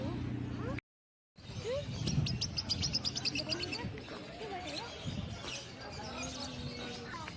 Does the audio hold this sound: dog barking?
no